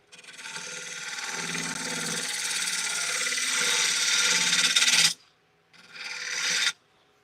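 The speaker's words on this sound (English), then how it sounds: "Been a long time since I've used a wood lathe" A wood lathe with a tool cutting into the spinning wood gives a loud, continuous rasping scrape for about five seconds, then stops, then comes back for one shorter pass.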